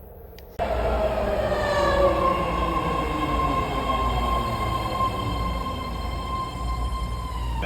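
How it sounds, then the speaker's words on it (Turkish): A train pulls into a station in the United States with a loud rumble, its brakes squealing in a long high whine as it slows. No one speaks. "Evet trenimiz gelmiş bulunmakta."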